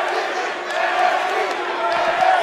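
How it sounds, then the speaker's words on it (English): A capacity crowd roars and cheers at a wrestling arena during a knockout match, a dense, loud, sustained wash of voices with scattered shouts and whoops. "This capacity crowd starting to sense the end is near"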